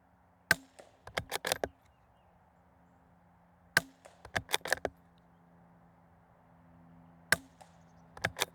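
Rimfire rifle shots fired at a target, sharp cracks arriving in small clusters with quiet gaps between them, close and clear, with no talking.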